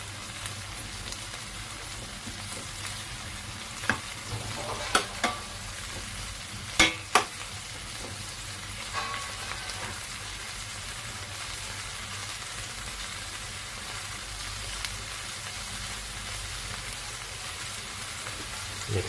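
Steady frying sizzle with occasional stirring scrapes as shrimp and aromatics cook to golden brown for a mung bean dish with bok choy, the hiss continuous and fairly quiet under a few sharper utensil clicks.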